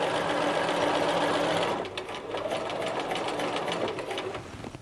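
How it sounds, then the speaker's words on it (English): A sewing machine runs fast and close, stitching a knit sleeve cuff, then continues as a slower pulsing run with audible needle strokes. There is no talk. "So we've got the first stitch line sewn in."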